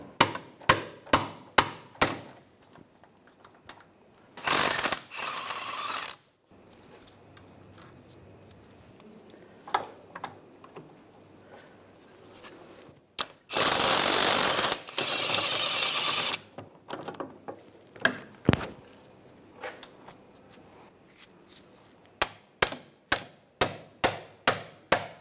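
Sharp metallic hammer taps on rusty wheel studs of a 2003-2008 Infiniti FX35 come in quick rhythmic runs, broken by a couple of longer harsh grinding bursts, all close up.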